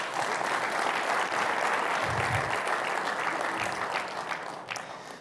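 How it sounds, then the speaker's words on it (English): Conference audience applauding host partners at an aviation development event, a sustained round of clapping from a large hall that holds steady and then begins to fade toward the end. "can I please have a round of applause for our host partners?"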